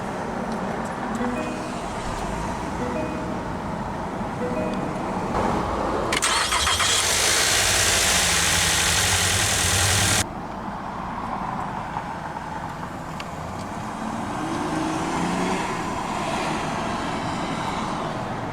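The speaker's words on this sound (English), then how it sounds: "let's go ahead and start the engine, and along with smart key, it does have push-button start" A 2023 Mitsubishi Outlander SE engine cranks on push-button start and catches with a loud burst of noise, then settles into a steady, smooth idle nearby. There is no talking.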